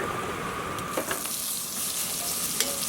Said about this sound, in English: So now we're going to cook our meat. We're going to use a little bit of olive oil and a little bit of butter.